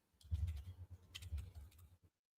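Rapid typing on a computer keyboard, a close run of crisp key clicks lasting about two seconds before stopping, with no voices.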